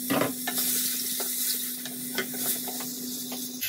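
Bacon and oxtail juice poured into a hot pan for boeuf bourguignon sizzles steadily while being stirred, with scraping stir strokes and a constant frying hiss, close and alone.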